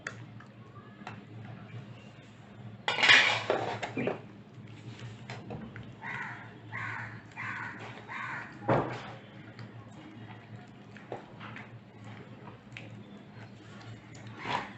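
Food mixed by hand in a bowl makes close, soft squishing and slapping sounds with occasional taps and knocks against the bowl, irregular and fairly quiet throughout.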